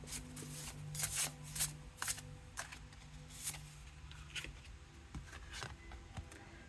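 A deck of oracle cards being shuffled by hand, a steady run of crisp riffling and sliding bursts at close range with a faint low hum underneath and no talking.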